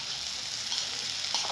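Rice, parboiled about three-quarters of the way, being stirred together in a hot pan, giving a steady close sizzle with a soft scrape of stirring near the end.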